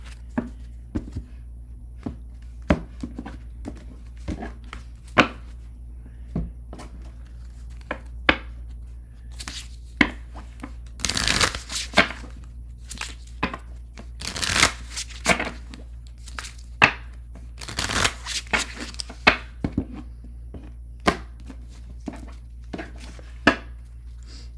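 A deck of tarot cards is shuffled nearby, with scattered light taps and card slaps leading to several louder riffling bursts, then more intermittent handling sounds.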